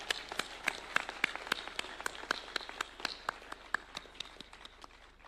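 A small group at a university event claps steadily, with distinct hand claps in a quick, fairly even rhythm that rise and then thin out.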